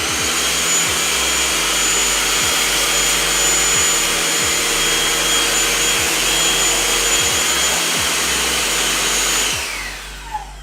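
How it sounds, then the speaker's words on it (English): A Kenmore DS1030 cordless vacuum whines steadily at close range with a high-pitched motor tone, faint rattling bursts of small seeds being sucked up, then it switches off near the end. "let's go ahead and see how fast we can vacuum this up"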